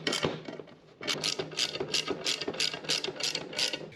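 A hand ratchet tightens bolts on the winch contactor of a 2023 Yamaha Grizzly EPS, with close, crisp bursts of rapid clicking in a regular back-and-forth rhythm and brief pauses between strokes.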